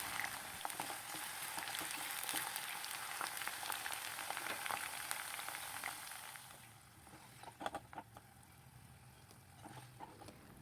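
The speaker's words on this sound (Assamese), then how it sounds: "আলু ভাজি ল'ম, হাই ফ্লেমতে ভাজি আছোঁ।" Potatoes frying in mustard oil in a kadai on high flame, a steady close crackling sizzle that holds loud for most of the stretch, then eases a little with a few sharper pops near the end.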